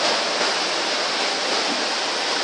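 Water runs through the indoor river at the Opryland Hotel in Nashville, Tennessee, a steady, loud rushing wash that never lets up, with no voices over it.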